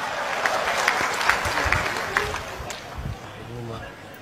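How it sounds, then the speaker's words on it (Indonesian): An audience applauds during a humorous storytelling talk, with dense, steady clapping that thins out toward the end and a faint voice underneath. "Tepuk tangan buat Indonesia."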